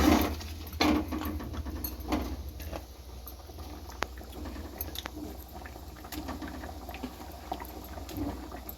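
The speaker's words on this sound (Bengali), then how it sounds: "গরম জল ঢেলে দিচ্ছি।" Hot water poured into a pot of cooking meat with new potatoes, a steady close sizzling, bubbling liquid sound with a sharp burst at the start and a few louder splashes, no talking.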